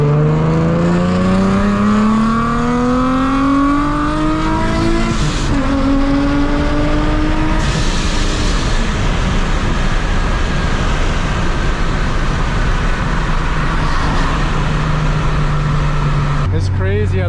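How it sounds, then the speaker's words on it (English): A 650-wheel-horsepower Nissan 370Z under boost, the engine note climbing steadily through the revs, a brief dip at a gear change, then pulling hard again, loud and close from inside the car with turbo whine layered over it. "It's crazy how the boost starts picking up in this thing and the higher RPM."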